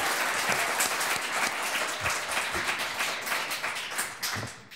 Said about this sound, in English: please can we give a round of applause to Rabbi Daniel Rowe for his opening statements